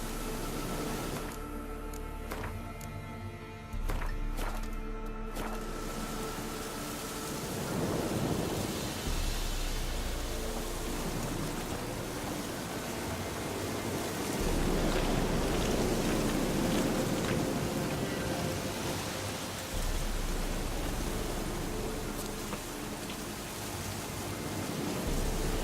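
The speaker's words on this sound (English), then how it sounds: "Looks like rain." Steady rain hisses in The Witcher video game, a continuous broadband wash with low rumbling swells that could be distant thunder, and no voices.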